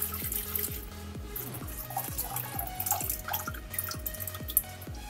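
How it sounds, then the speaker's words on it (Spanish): Water goes into a cooking pot for a second boil of orange slices, making a steady run of small, regular drips and splashes close by, with no talking. "En la misma cazuela colocamos nuevamente agua."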